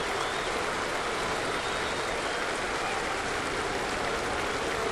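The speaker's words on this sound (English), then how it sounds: "With 2-strike rhythmic clapping." A baseball stadium crowd at a Rays–Yankees game claps rhythmically on a two-strike count, a dense, continuous wash of clapping and crowd noise heard from a distance, with no clear beat standing out.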